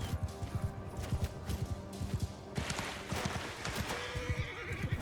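Horses in a samurai-era battle in the game Shokuho neigh and whinny while hooves clip-clop in rapid, repeated thuds, the galloping rhythm continuous and fairly close, with a sharper burst of activity midway.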